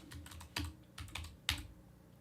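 Clusters of key presses on a computer keyboard as a command is typed, bursts of quick clicks separated by short pauses, close and clear with no talking.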